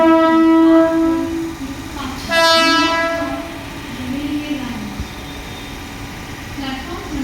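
An ICF-built fast Mumbai local train runs through a railway station, sounding loud, sustained horn blasts over a heavy rolling rumble of wheels and carriages close by.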